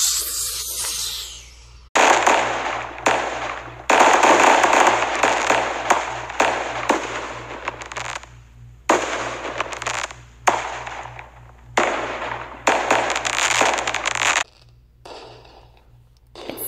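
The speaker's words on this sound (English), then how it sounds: "Beautiful fireworks, right?" Fireworks burst in a rapid series of loud, crackling explosions, each one hissing and sizzling before the next, with brief pauses between volleys and a steady low hum underneath.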